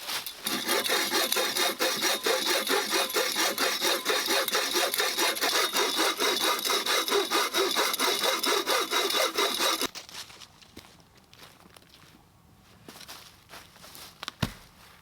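Steady back-and-forth hand sawing through wood at a bushcraft camp, a close rhythmic rasp of repeated strokes for about ten seconds, then stopping, followed by quiet handling sounds and a sharp knock near the end.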